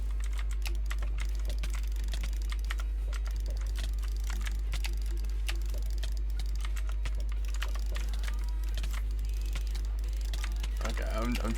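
Rapid keyboard and mouse clicks while gaming, a dense, continuous clatter of close key taps and clicks throughout, with occasional talking in the background.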